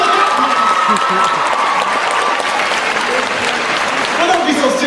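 An audience claps and cheers in a steady, loud wash of applause that runs unbroken, with a voice and some whistles mixed into the crowd noise.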